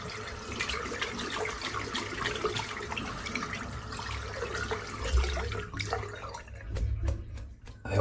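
Water runs steadily from a tap as a shaving brush is rinsed out, a close, continuous splashing stream that thins out near the end into a few drips and sputters.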